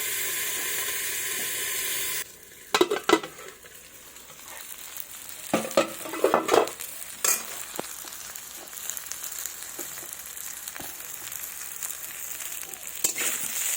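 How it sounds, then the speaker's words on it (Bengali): Rohu fish fries in a covered pan over medium heat. A steady hiss gives way to bursts of sizzling and clattering stirring, then a continuing crackle. "দিয়ে এইভাবে ঢাকা দিয়ে ভালো করে ভেজে নেব।"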